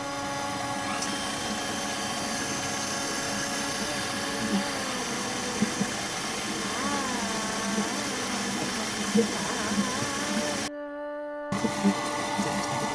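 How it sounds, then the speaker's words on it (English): A stand mixer kneads bread dough for garlic bread, giving a steady, close motor whir with faint rhythmic knocking and a brief dropout near the end. "I'm using my stand mixer"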